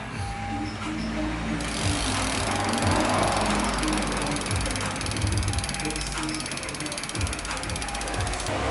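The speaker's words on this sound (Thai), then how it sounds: "ในส่วนของดุมหลังนะครับ ตัวนี้จะเป็น ขับขวาคอกเก้าฟูลแบริ่งนะครับ" A BMX street bike's rear hub, a right-drive 9-tooth full-bearing cassette driver on a 14 mm axle, gives a rapid continuous ratcheting buzz as the wheel freewheels, loud and close throughout, with no speech over it.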